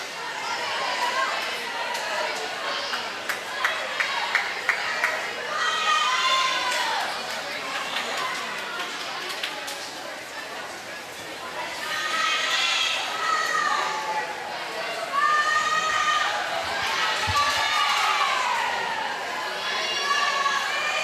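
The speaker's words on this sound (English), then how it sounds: "You can hear all the Farmington girls cheering for their teammates out in the pool" Girls on a swim team cheer and shout for their teammates at an indoor pool meet. High whoops and yells come in bursts over a roomy crowd murmur, and a commentator talks over the noise.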